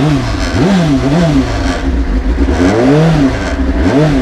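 A Baby King 2010 motorcycle engine revs up and down repeatedly, loud and close, its pitch rising and falling in a steady rhythm with no voices.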